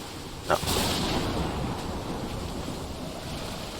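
Waves wash onto a beach in the video game Call of the Sea, a steady surf roar mixed with wind. Early on a brief sharper splash rises, then the wash settles into a constant even rush with no talk.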